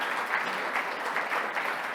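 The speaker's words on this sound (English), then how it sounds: "Give Danny a round of applause." An audience applauds at a public address in a steady, even wash of many hands clapping together, sustained throughout with no pauses.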